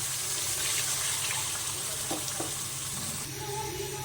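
Water poured into a pan of cooked fish spice paste made with mustard and poppy seed, a steady close rush of liquid over low sizzling that softens toward the end.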